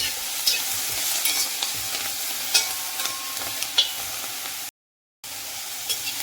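Steady sizzling of elephant foot yam leaves frying in a pan, with scraping stir strokes at irregular moments and a brief dropout of all sound near the end.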